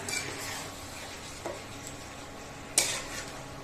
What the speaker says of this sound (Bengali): একটু কষে নিই ভালো করে তারপরে আর একটু বাড়িয়ে দিয়ে তাড়াতাড়ি একটু পাঁচ মিনিট কষে নিই